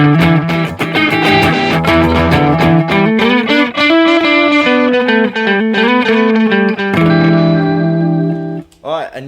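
A melodic instrumental line runs through a Roland RE-201 Space Echo software plugin set to slapback, each note followed by a quick repeat, loud and sustained before it drops out near the end.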